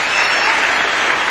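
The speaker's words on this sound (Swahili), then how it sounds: "Mpigieni makofi." Dense, loud audience applause at a county-level public gathering in Kenya, a continuous crowd of clapping hands filling the space without a break.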